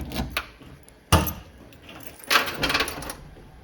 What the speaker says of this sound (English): First time owning a car this old, a lot of keys.